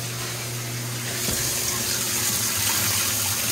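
Water rushing into a washing machine during a test run after a repair, a steady gush of flow and filling that swells slightly louder partway through, with no talking.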